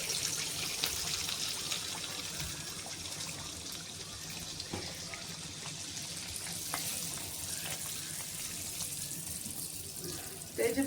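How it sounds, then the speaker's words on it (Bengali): Rice-flour and jaggery pitha batter fries in well-heated oil with a continuous, fairly faint bubbling sizzle. The sizzle holds steady throughout, with brief soft voices in the background. "এবারে তেলের মধ্যে অল্প অল্প ব্যাটার দিয়ে দেব।"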